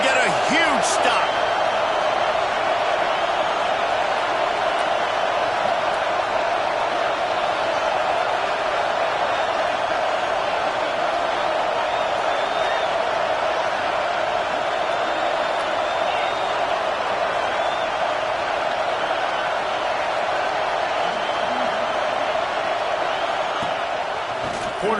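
A football stadium crowd keeps up a steady, dense roar of cheering throughout, with a commentator talking over it.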